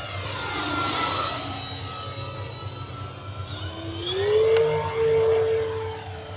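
An E-flite T-28 Trojan V2 radio-controlled model plane with a 1.2 m wingspan flies past, its motor whine steady and fairly loud, then rising in pitch and swelling closer partway through before holding a higher tone.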